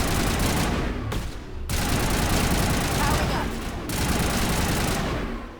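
Dense, continuous gunfire from the video game Mass Effect: overlapping rapid shots and bursts that fill the whole stretch at a loud, steady level, with brief dips and no voices.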